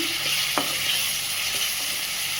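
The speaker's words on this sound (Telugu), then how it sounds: "ఫ్రై అయ్యే వరకు ఫ్రై అండి అల్లం వెల్లుల్లి పచ్చి వాసన పోయే వరకు" Ginger and garlic frying in a pan for a tomato cabbage curry, giving a loud, steady sizzle close up with a couple of brief spoon knocks.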